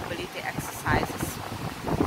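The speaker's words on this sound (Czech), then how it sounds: "Dneska je tady fakt větrný den, takže doufám, že mě slyšíte." Gusty wind on a beach buffets the microphone in rough, uneven bursts while a person talks over it throughout.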